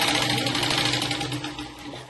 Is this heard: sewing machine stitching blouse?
yes